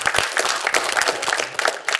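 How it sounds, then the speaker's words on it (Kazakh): Studio audience applause on a Kazakh television programme, a dense, steady patter of many hands clapping throughout at moderate loudness, with no speech over it. "Бәрекелді, қол шапалақтап қояйық."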